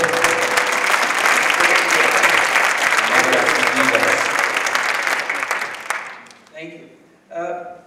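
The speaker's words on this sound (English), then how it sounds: "Can I just propose a big applause for the musical group?" A big round of audience applause for a musical group at a launch event, dense and loud for about six seconds, then tapering off into scattered claps and a few voices.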